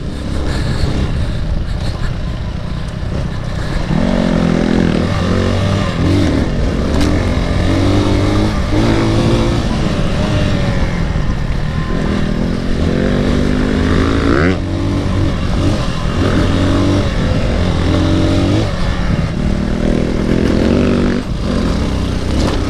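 A Brozz 250 Chinese dual-sport motorcycle ridden off-road through forest trails, its single-cylinder engine droning loud and close, rising and falling with throttle blips and revs throughout, with brief rider talk over it.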